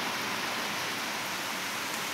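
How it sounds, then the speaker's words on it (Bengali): Heavy rain falls outside as a steady, dense hiss, close and even throughout with no breaks, and no voices over it. "বাইরে খুব বৃষ্টি হচ্ছিল"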